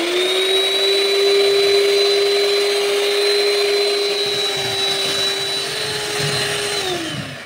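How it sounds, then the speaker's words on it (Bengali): An electric beater whips butter with powdered sugar in a steady, loud motor whir that holds an even pitch for several seconds, then drops in pitch and slows near the end. "এখন একটা ইলেকট্রিক বিটার দিয়ে প্রায় পাঁচ মিনিট মতো ধরে আমরা চালিয়ে নেব"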